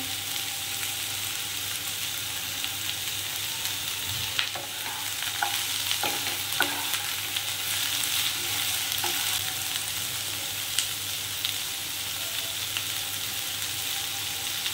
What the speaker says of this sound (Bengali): ওভেনের আঁচটা বাড়িয়ে বাড়িয়ে আমি একটু নাড়াচাড়া করে নিলাম সবজিগুলো।